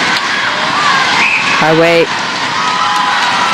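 A large crowd roars steadily at a netball final between Malaysia and Singapore at the 2017 SEA Games, with a commentator speaking over the continuous cheering.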